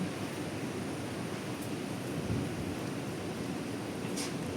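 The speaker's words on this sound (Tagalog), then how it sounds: "Pabugso-bugso yung hangin." Gusty wind during a typhoon under signal number 9 in Hong Kong, a broad continuous roar with slight surges, steady and fairly loud with no voices.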